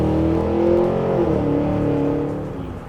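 Cadillac Escalade with a 6.2-liter supercharged V8 pulls hard under acceleration, a loud, steady engine drone rising through the revs before easing off slightly near the end.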